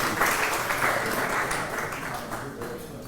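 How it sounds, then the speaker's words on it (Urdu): Audience applause at a social media workshop certificate ceremony at Abad House, a steady dense wash of clapping from a crowd, fairly loud and continuous throughout. "بہت ساری تالیاں ہونی چاہیے مہنتی صاحب کے لیے"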